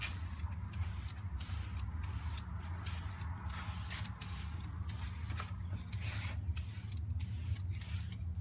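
An aerosol can sprays paint in a string of repeated hissing bursts at close range, broken by brief pauses, with faint mechanical creaks from the can.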